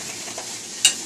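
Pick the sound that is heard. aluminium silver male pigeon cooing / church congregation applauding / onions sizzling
onions sizzling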